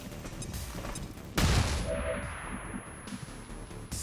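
A flashbang goes off with a sharp, loud blast in XCOM 2, mid-clip amid bursts of gunfire and clanging impacts, with no voices.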